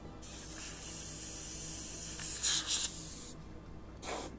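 An airbrush sprays paint onto a Jurassic World Indoraptor artwork, giving a steady close hiss with brief louder bursts partway through and a short pause near the end, with no voices.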